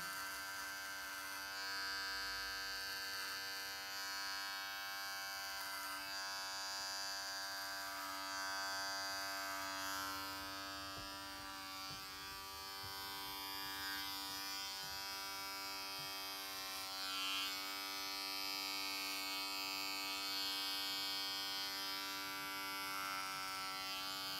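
Electric beard clippers with the lever closed for a close cut run through beard hair in a steady, continuous buzzing hum with no talk.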